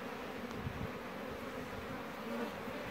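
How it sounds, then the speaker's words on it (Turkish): Honey bees buzz continuously at a beehive, a dense, steady drone heard close but at low level with no talk. "Bayağı sıkışmış bu arı da."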